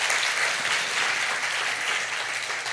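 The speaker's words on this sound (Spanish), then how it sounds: "denle un aplauso fuerte al Señor entonces" An audience at a church service applauds loudly and steadily, a dense wash of clapping hands that holds at full strength throughout with no voices.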